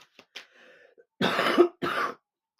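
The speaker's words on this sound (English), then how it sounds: "I do apologize for the coughing" Coughing from a person who is a little sick: a few faint throat sounds, then two loud, harsh coughs in close succession, heard alone with no talk.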